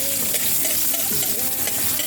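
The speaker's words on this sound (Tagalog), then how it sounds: "Haluin na po natin." Garlic and onion sautéing in a pan for native chicken tinola, a dense continuous sizzle with soft stirring scrapes running underneath, close and fairly loud, no voices.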